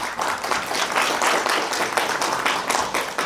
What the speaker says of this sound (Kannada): ಈ ಚಪ್ಪಾಳೆ ಕೂಡ ಸಾಲದು ಅವ್ರ ಬಗ್ಗೆ